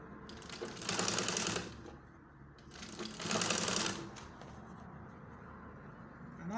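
A sewing machine stitching a turtleneck collar runs in two short bursts separated by a pause, each a rapid, close, even whirring chatter.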